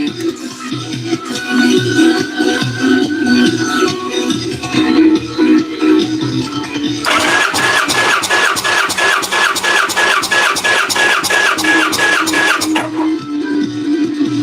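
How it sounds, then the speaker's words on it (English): A car engine held at wide open throttle in a garage, a dense, loud mechanical roar that steps up in intensity partway through into a harder, buzzing, rapidly pulsing tone, steady and close throughout with no voices. "Wide open throttle."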